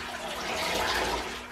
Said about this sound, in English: I'm just going to get the cowl out of the water.